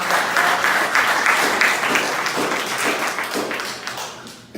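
An audience at a political gathering of precinct delegates applauds a former state representative, a full, dense burst of clapping that holds steady, then thins and fades over a few seconds.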